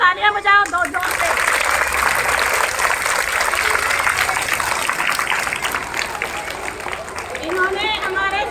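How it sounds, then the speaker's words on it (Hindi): A school audience of children bursting into loud, dense clapping that fills the room for several seconds, with a voice heard at the start and a high-pitched voice rising again at the end over the fading applause. "बहुत बहुत तालियां बजाओ दो जोर से।"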